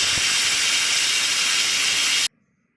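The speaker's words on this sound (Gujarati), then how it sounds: "તો હવે આપણે કુકરમાં સીટી પણ વાગવા માંડે છે" A pressure cooker whistle vents steam while chana dal cooks, giving a loud, steady, close hiss that cuts off abruptly into silence.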